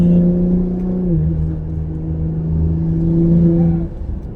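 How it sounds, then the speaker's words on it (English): A 2020 Ford Explorer ST with a 3-inch exhaust revs and accelerates loudly with a deep, raspy exhaust note, pitch holding then shifting as it pulls, close by. "Man, the 3-inch exhaust is rowdy"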